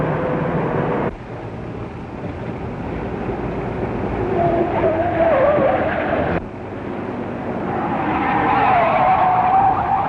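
A 1930s Royal Grocery Company truck drives along with a steady, fairly loud rumbling engine and rolling road noise that stays close throughout, briefly dipping and then swelling again.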